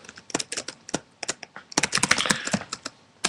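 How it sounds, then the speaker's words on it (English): Rapid, uneven clicking of keys on a computer keyboard, close and crisp, with bursts of fast typing and short pauses. "So, I'm typing here."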